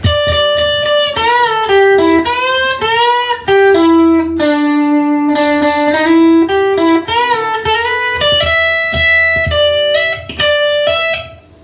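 A longer distorted electric guitar passage with repeated picked notes and held bends, loud and close, played continuously without any voices.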